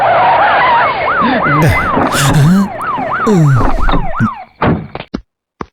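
A car braking to a stop with tyres skidding, heard over a loud wailing police siren, followed by short sharp bangs and then quiet.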